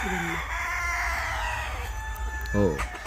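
About 1500 native country chickens cluck steadily in an enclosed farm shed near Visakhapatnam, with a rooster crowing loudly near the end over a constant low hum.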